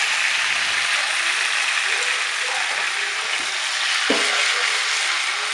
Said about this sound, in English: we're going to pour it into our drippings